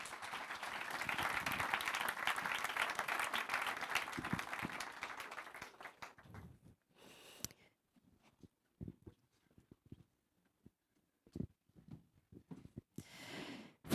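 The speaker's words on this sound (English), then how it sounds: "Please do give them a warm round of applause." Conference audience applauds at a think tank event on infrastructure, steady clapping filling the room for about six seconds before fading into scattered quieter sounds and brief bursts.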